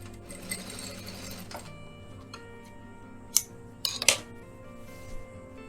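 A sewing machine stitches blouse cloth in quick whirring bursts, with a steady motor hum and a few sharp clicks and taps near the end, close and fairly quiet, no talking.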